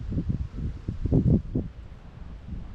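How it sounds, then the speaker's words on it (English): A breeze moves through ferns along a sunny hiking trail, a soft rustling swish that rises and falls over a steady low wind rumble against the microphone, close by and with no talking. "Breezy, sunny, ferns flying around."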